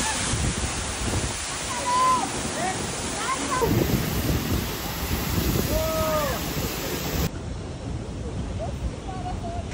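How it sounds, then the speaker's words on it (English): Heavy roar of a waterfall heard from behind the falling water, a loud steady rush with wind buffeting and voices talking over it. "We're inside the waterfall, like behind it."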